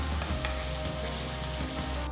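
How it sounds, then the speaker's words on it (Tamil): Chopped large onion sautéing with spices in a pan for a tomato dish, a steady close sizzle and frying crackle with faint stirring, no voices. "இது கூட பொடுசா நறுக்குன 1 பெரிய வெங்காயம் சேர்த்து நல்ல பொன்னிறமா வர வரைக்கும் வதக்குங்க"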